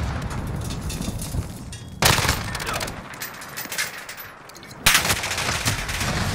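Modern Warfare 3v3 match with bursts of automatic gunfire, two sharp loud volleys rising out of quieter background shooting, no voices.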